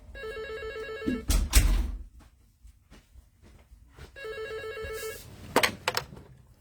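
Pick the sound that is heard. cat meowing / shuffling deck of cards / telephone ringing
telephone ringing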